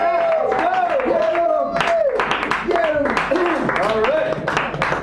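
Audience clapping at an open mic night in Sacred Grounds Cafe, San Francisco, steady and close throughout, mixed with repeated whooping and cheering voices rising and falling over the applause.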